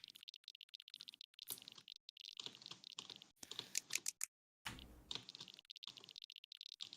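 Rapid mouse clicking during a clicks-per-second test, a fast, dense burst of sharp clicks up close that stops briefly partway through and then resumes, with no talking.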